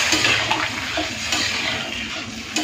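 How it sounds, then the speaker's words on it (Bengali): Water poured into a pan of rohu fish curry cooking with potato and papaya, a brief close rushing splash and bubbling that runs steadily for a couple of seconds, no voices. "তো এই সময় দিয়ে দেবো পরিমাণ মতো জল।"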